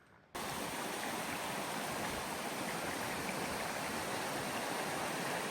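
Creek water in the Yukon flows steadily downstream of a fossicking area, a dense, constant rushing wash that starts abruptly and holds at an even level with no voices.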